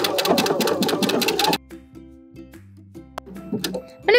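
A sewing machine stitching sweater knit for a cardigan, a fast rattling run of needle strokes that stops abruptly, followed by quieter clicks and hum from the machine, close and loud without speech.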